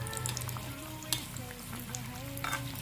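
Tel pitha, an Assamese rice cake, fries in hot oil while the oil is stirred, giving a steady close sizzle with faint scraping under soft background music and no talk.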